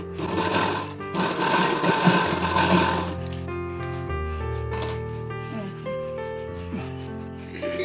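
A sewing machine runs continuously, stitching a double seam on a princess-cut blouse, with its motor humming close by under steady background music.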